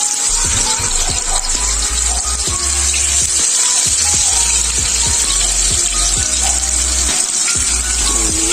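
Tofu frying in a pan, a steady loud sizzle running throughout with scattered crackles and pops, cooking noise alone with no talking.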